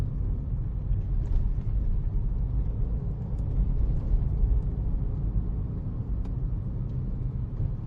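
A car drives along a narrow road in Bali, giving a steady, low engine and road rumble heard from inside the car, with no talking.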